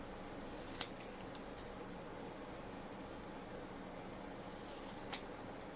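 Scissors cutting a product label, two sharp isolated snips spaced a few seconds apart against a quiet hiss, close and fairly faint.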